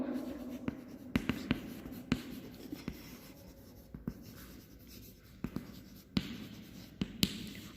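A pen scratches across paper while chemistry notes on balancing redox reactions are written, quiet and close, with short strokes and sharp taps in an irregular rhythm.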